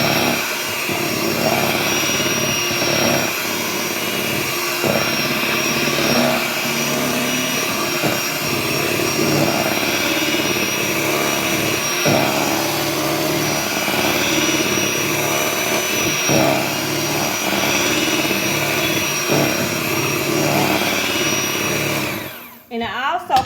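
Electric mixer whirring steadily through pumpkin cake batter in a home kitchen, a loud continuous drone running nearly the whole time, ending in a brief clatter.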